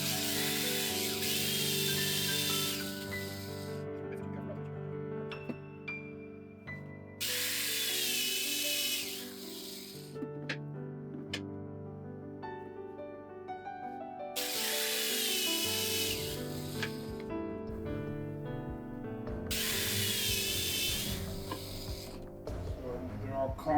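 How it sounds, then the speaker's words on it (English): A power drill countersinks holes in wooden boards for a craps dice throwing station, with four loud, sustained whirring bursts separated by short quieter pauses, close up. "all we're gonna do is we're just gonna drill in,"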